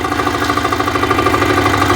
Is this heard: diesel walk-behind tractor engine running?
yes